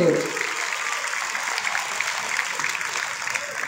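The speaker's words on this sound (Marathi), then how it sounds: "हात वरती जोरदार टाळी" Steady applause from a crowd of students and teachers at a school gathering, even and sustained throughout, with a voice briefly audible at the start.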